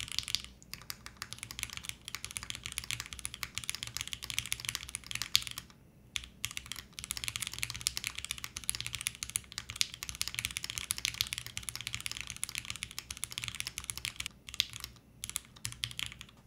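Rapid typing on a mechanical keyboard fitted with Gateron Milky Yellow Pro switches, a close, dense stream of clacky keystrokes with a few brief pauses and no talk.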